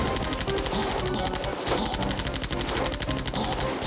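Rapid gunfire in the Wii game Zombie Panic in Wonderland, dense repeated shots in steady bursts that fill the clip with almost no break.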